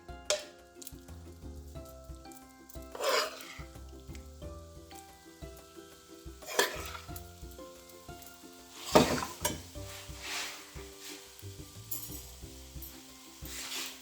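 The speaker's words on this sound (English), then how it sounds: "Now we add the sauce that we made." Sauce goes into a pan of Italian tuna pasta with cherry tomatoes and olives, bringing a steady sizzle with several louder bursts of stirring and clattering pan scrapes spread across the span, no talking.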